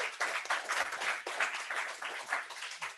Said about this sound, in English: You all know every time you clap, they're going to clap 30 seconds later